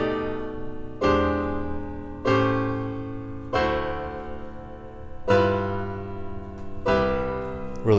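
Sustained chords ring out one after another, six strikes about every one and a quarter seconds, each decaying before the next, tracing an extended-dominant progression moving around the circle of fourths.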